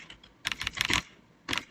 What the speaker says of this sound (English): why am I typing this again?